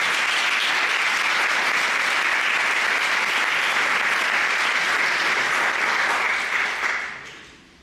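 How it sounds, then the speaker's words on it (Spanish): A conference audience gives a loud, dense round of applause to welcome Alejandro Pacheco. The clapping holds steady for about seven seconds and then fades quickly away. "Recibamos con un fuerte aplauso a Alejandro Pacheco"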